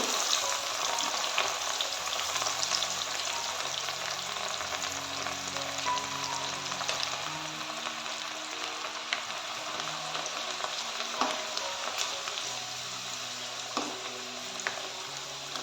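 Chana dal fries in hot oil, giving a continuous soft sizzle and bubbling with faint stirring scrapes, steady and close throughout with no talking.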